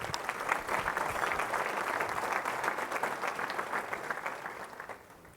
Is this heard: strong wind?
no